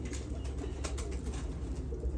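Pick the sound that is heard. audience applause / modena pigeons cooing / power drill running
modena pigeons cooing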